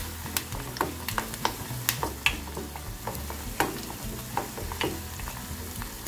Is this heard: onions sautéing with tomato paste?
yes